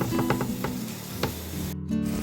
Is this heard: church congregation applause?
no